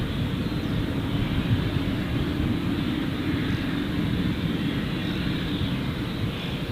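A Jetstar airliner arriving from Auckland at Gold Coast Airport gives a steady, continuous low rumble of jet engine noise with a broad roar that holds level throughout, and no one speaks.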